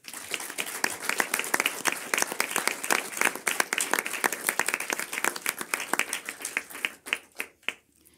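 Audience applause for the authors at the Marius de l'audiodescription 2022 award ceremony: crisp, distinct hand claps in a lively even rhythm, thinning out and fading toward the end.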